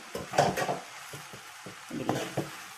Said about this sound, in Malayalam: അപ്പോൾ ഒന്ന് മിക്സ് ചെയ്യട്ടെ